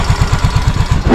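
A repaired motorcycle engine, fixed after running short of oil, idles close by with a steady, even low putter of regular pulses and no voices.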